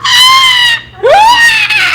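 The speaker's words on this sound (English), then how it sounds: "Stop screaming. You're scaring the snake." A person screams loudly while handling a snake, two long shrill cries separated by a brief gasp-like break, close and piercing.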